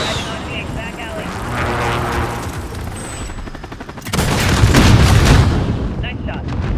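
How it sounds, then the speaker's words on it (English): Friendly airstrike explosions in Modern Warfare: loud rumbling blasts and crackling gunfire that swell sharply midway into a heavy sustained barrage, with in-game voices talking over the battle. "Be advised, friendly strike inbound."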